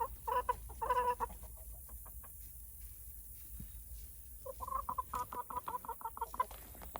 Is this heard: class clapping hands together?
no